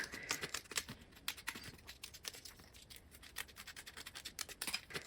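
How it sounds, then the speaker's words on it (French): Small mini scissors snipping around the outline of vinyl labels, a close, quiet run of crisp irregular snips and scratchy paper-like rustles with no talking. "Je prends donc mes mini ciseaux de chez Action et c'est parti, je fais le contour au ciseau."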